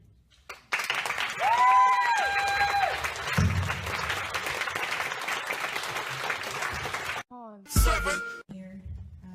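A large indoor audience at a talk applauds in a sustained, dense wash of clapping that swells and lasts several seconds, then briefly breaks and resumes, with a whistle or cheer rising over it.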